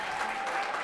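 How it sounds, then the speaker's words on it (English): A congregation at a Purim feast gathering gives a hearty round of applause, a brief dense patter of clapping heard steadily across the room. "Let's give them a hearty round of applause."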